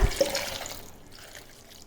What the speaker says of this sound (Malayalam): അപ്പോൾ നമുക്ക് ഇനി ഇത് 1 ഗ്ലാസ് വെള്ളം ഒഴിക്കാം.